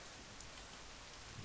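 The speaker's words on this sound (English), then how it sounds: "there's some rain, but unfortunately we don't have a rain catcher" Rain falling in the survival video game The Forest makes a steady, quiet, even hiss of drops with no voices over it.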